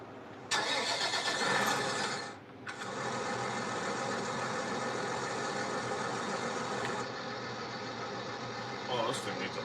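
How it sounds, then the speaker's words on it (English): An old tractor engine cranks briefly, catches, and settles into a loud, steady idle nearby, with a short dip while starting. "we can start this tractor"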